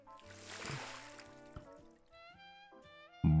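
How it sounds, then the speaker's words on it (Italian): In the Aquarist video game, water is poured from a bucket into an aquarium, giving a brief splashy rush near the start beneath steady background music that continues to the end. "Prendi il secchio e premi l'acquario per versarci l'acqua."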